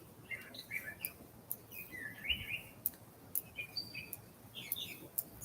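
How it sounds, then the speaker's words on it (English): Small birds chirp outdoors in short, high tweets scattered irregularly across the moment, fairly faint and distant over a soft background hiss, with no talking. "The birds are talking right now."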